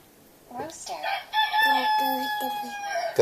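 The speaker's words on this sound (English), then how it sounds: "Rooster." A rooster crows loudly and close by, with a long drawn-out cock-a-doodle-doo following a few short clucking notes at the start.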